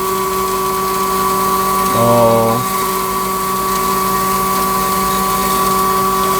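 An atta flour-making machine grinds protein powder with a steady mechanical whine and hum, rising into a brief, louder harmonic grinding burst partway through before settling back to the continuous drone.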